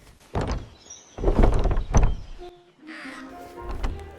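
A wolf knocking on a house door in an animated Kazakh fairy tale: a few heavy, muffled thuds in a loose cluster, then a quieter tonal sound trailing after.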